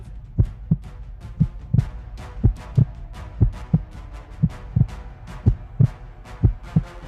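A steady, close heartbeat used as a show-segment sound effect, a regular run of deep thumping double beats, about ten in seven seconds, with no talking.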